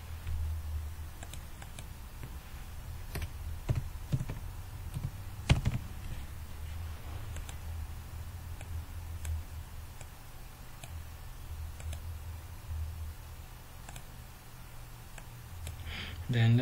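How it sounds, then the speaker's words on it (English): Keys clicking on a computer keyboard while text is typed in a graphics program, a steady run of light taps with a few sharper clicks, under a constant low hum. "let's type a text."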